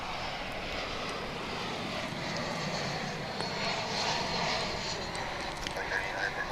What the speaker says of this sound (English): 787-9 Dreamliner is getting into position to take off.